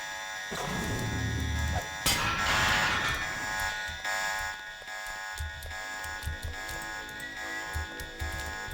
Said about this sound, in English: Activating every alarm on base.